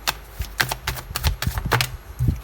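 A deck of tarot cards is cut and handled, producing quick, close papery clicks and slaps in an uneven run of soft taps and flicks.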